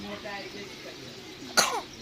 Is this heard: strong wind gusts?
no